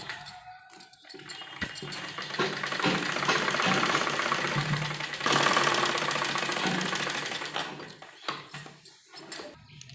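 A sewing machine stitches the folded hem at the bottom of a trouser leg, running in a steady, loud, continuous whir for several seconds between brief pauses at the start and end.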